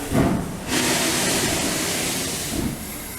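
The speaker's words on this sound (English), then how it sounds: "A lot of steam and smoke." Steam bursts out in a loud, broad hiss from the nearby Flying Scotsman steam locomotive, with rumbling underneath and a brief chuff near the end.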